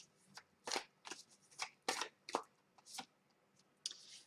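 Sacred Destiny Oracle cards are shuffled in quiet, close bursts of soft riffling and slapping, about eight separate flutters with brief pauses between.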